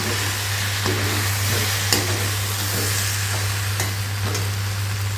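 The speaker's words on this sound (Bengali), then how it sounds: "দিয়ে দেওয়ার পরে এটা আবার ভালো করে একটু মিক্স আপ করে নেব" Bengali vegetarian potato curry with cumin, coriander powder and garam masala is stirred in a pan, a steady sizzle with occasional soft scrapes over a low continuous hum, heard close with no speech.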